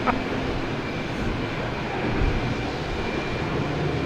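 An Aer Lingus airliner at Boston Logan Airport, a steady broadband engine roar with wind noise, fairly loud and continuous, heard from a distance with no talking.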